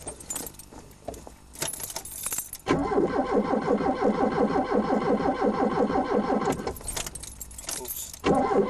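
Car engine cranking and catching after a water pump repair, keys jangling first, then a steady mid-pitched idle running loud and close for several seconds before a brief cut and restart.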